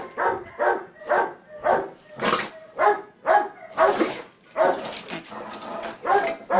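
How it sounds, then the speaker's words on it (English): A dog gives warning signals as a rhythmic series of about a dozen close, clipped barks and grumbles, evenly spaced at first and then running together. A person speaks softly between them. "we're going to see a dog who has very, very good warning signals and good control of his mouth"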